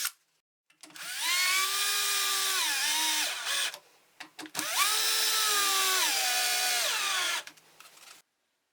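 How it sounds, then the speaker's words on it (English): A power drill bores a hole through a wooden block, giving two loud, close, sustained whining bursts whose pitch dips and recovers as the bit bites into the wood, separated by a short pause. "I drilled the hole"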